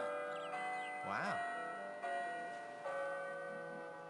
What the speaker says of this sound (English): Those bells are loud.